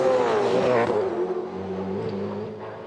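Supercars V8 touring cars accelerating up to speed at Phillip Island in 2006, a loud, close engine roar with rising revving harmonics that settles into a steady drone.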